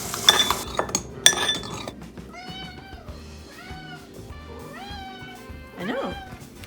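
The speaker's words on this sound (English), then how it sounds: "I feed my cats." Several cats meow repeatedly at close range during a morning feeding at home, with clinks of dishes or a bowl and a few sharp clattering bursts near the start.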